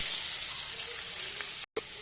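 Spices and ginger-garlic paste going into hot oil for a fish-roe and drumstick dish, giving a steady hiss of frying heard alone, briefly cut off near the end.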